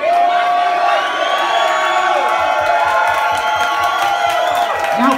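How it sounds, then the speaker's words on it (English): An audience at a nightclub drag show closing cheers loudly together on a count, a sustained burst of whoops, screams and shouting from a close crowd. "I just want on the count of three, everyone to cheer for Angel and just say we fucking love you."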